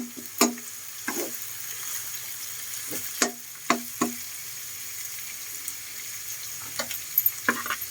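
Garlic fries in hot oil for lumpiang ubod, a quiet steady sizzle punctuated by scattered crisp clicks and taps of a utensil against the pan, close by with no talking.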